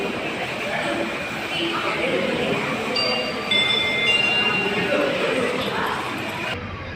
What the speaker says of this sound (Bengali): দেখো এখানে ট্রেন এসছে